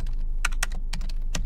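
Typing on a computer keyboard while entering equations in a Microsoft Excel worksheet: a few quick clusters of crisp, close key clicks in an uneven rhythm, heard alone.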